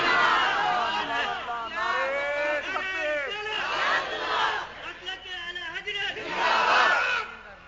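A large audience at a religious gathering for the 12th of Rabi ul Awwal roars a slogan in unison, a loud rolling crowd shout repeated in several waves with a lead voice between them.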